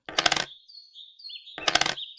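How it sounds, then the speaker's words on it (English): Two bright metallic jingles of coins dropping in a video game, each followed by a short ringing tone, spaced about a second and a half apart with no voices. "What are these? Roman coins?"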